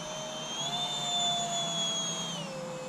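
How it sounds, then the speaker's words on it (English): A Freewing Stinger 64mm EDF RC jet flies on a 4S battery. Its ducted fan whines steadily at a moderate distance, and the pitch rises and falls gently as it passes. "It's a pretty quiet EDF, this one."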